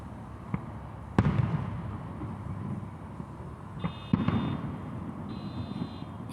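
Fireworks bursting outdoors, with two sharp loud booms early on and another later, over a steady rumbling crackle and a couple of faint beeping tones.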